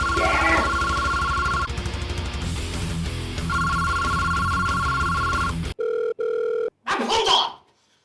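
A telephone rings in a drama scene with two long electronic ring tones over a busy background. The sound then switches abruptly to short, clipped tone pulses before fading.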